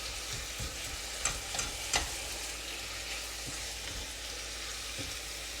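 Beef sizzles and browns in a pan, a steady frying hiss with occasional soft scraping and stirring taps, heard close with no talking.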